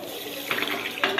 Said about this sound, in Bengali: এই যে 1 বাটি জল দিয়ে দিচ্ছি